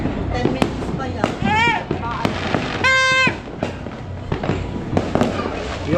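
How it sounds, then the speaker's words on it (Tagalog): Rapid crackling New Year fireworks and firecracker pops, with whistling rockets rising and bursting in the distance, while people chatter over the noise. "Madami, matagal ang putukan."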